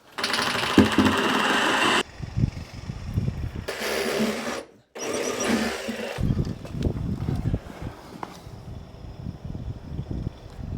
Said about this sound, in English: This is the problem when you drill through bricks.